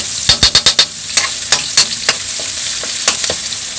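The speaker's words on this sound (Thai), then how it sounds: "แบบแรกน้ำมันร้อนแล้ว ใส่พริกกระเทียมที่เราตำลงไป" Pounded chili and garlic hit hot oil in a wok with a loud, steady sizzle, while a quick series of sharp stirring scrapes and clacks sounds up close, thinning to occasional strokes.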